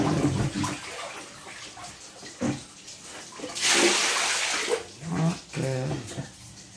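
Water gushes into a bathtub where ping pong balls float during bath time, a near, rushing splash that swells and fades in waves, with brief child and adult sounds nearby.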